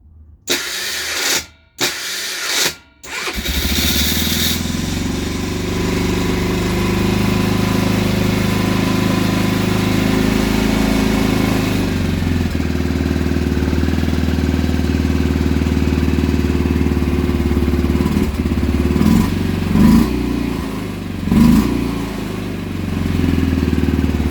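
A small petrol engine is started off choke. A few brief cranking pulls come first, then it catches and settles into a loud, steady running drone close by that holds for about twenty seconds.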